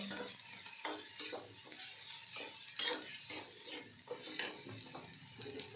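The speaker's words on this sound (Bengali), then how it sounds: "এবার ভাজাভাজি হবে।" Spices frying in a pan give a soft, steady sizzle while a utensil scrapes and stirs in irregular strokes, fairly quiet and close, with nobody talking.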